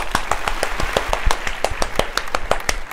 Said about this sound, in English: Give yourself a round of applause because you are so special.